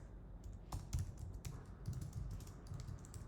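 Rapid keyboard typing while Python code is written on a computer, quiet, close clicks in an irregular run with a few louder keystrokes standing out.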